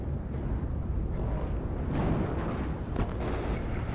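IHawk surface-to-air missiles launching in the video game WARNO produce a dense, rumbling roar with muffled booms and explosive thumps layered over continuous battlefield noise.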